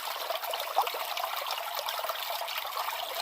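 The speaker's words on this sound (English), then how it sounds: "So I'm just going to pan this out for a second time. This time I'm just going to use the Garrett pan." Water sloshes and trickles continuously as gravel is swirled in a Garrett gold pan during panning, a close, steady wet washing sound with no talk.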